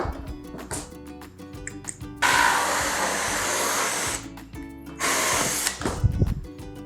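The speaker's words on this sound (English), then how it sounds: "So now that we have drilled the holes into the lid of the container" A power drill whines in two sustained bursts, loud and close, drilling holes in a plastic container lid, with clicks and handling noises of the tool before and between them.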